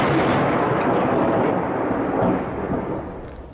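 Loud, rolling thunder outside during a nighttime storm, a continuous deep rumble layered with rain hiss that holds steady and then eases off slightly toward the end.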